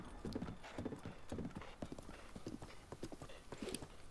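Horse hooves clip-clopping in steady rhythm in Zelda: Breath of the Wild, a close, even trot that runs the whole time with occasional snorts and a faint whinny.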